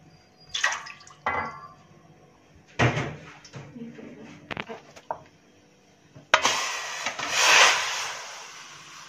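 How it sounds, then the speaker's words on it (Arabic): Water from one or two cups splashes into a baking tray set up as a water bath for a cream caramel cake, with a loud pour near the end after clatter and handling noises. "كوبايه ميه، ونحطها في الصينيه"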